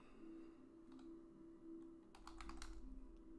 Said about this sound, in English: sometimes I'm just typing on my calculator